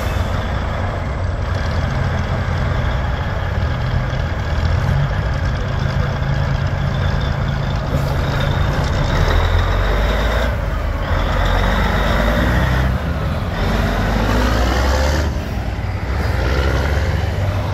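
A Mack LTL truck pulls out of a Mack Days show, its loud engine rumbling steadily close by while sharp air-brake hisses and releases burst out at intervals.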